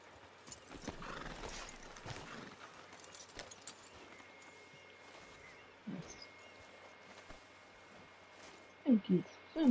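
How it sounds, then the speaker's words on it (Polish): Horse hooves clip-clop in Red Dead Redemption 2, with quiet ambient background, then a loud horse neigh bursts out in several sharp pulses near the end. "My sobie konia przybliżamy."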